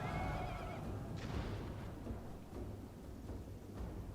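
A horse whinnies in the medieval strategy game Medieval Kingdoms 1295, a short high neigh at the start over a dense rumbling battle din that carries on underneath.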